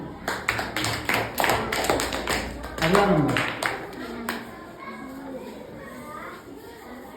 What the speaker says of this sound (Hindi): ठीक, तालियां भाई